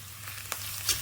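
Sliced onions sizzling and frying with spices in a pan, a close, steady crackling fizz with a brief stirring scrape partway through and no talking.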